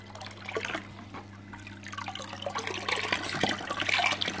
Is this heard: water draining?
yes